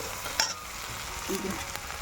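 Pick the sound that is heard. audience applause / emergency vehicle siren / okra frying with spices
okra frying with spices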